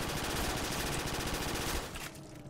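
A P90 submachine gun fires in a custom zombies mode of a shooter video game, a dense rapid burst of shots for about two seconds that cuts off abruptly.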